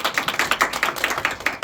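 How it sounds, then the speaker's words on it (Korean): Seminar audience applauds to welcome a speaker, a dense, steady patter of many hands clapping close by throughout a short burst. "여러분 큰 박수로 환영해 주시기 바랍니다"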